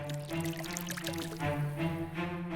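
Soda (sitro) pours in a cartoon, a continuous gurgling, fizzy stream of liquid over a held musical tone.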